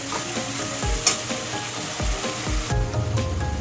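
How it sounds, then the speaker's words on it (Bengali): Spice paste sizzling steadily as it fries in oil in a pan for a soybean muitha dish, with a few scraping stirs of a spatula over the continuous close sizzle and no talking. "এটা ভালো করে কষে নেব, ভালো করে কষে নেব যাতে কাঁচা মশলার গন্ধটা না থাকে"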